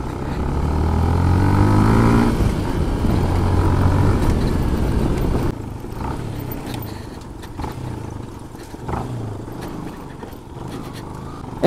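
A motorbike rides along a village road in the Terai countryside, its engine droning loud and steady, easing into a quieter rumble about halfway, with no clear talk over it.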